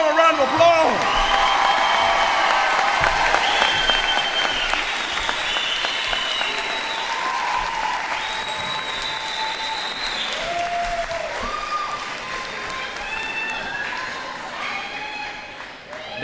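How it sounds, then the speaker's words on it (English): Sustained applause and cheering for graduating seniors at the Woodward High School 2021 graduation ceremony in Toledo, a large crowd clapping steadily with whoops and shouts layered on top, tapering off near the end. "Give them a round of applause."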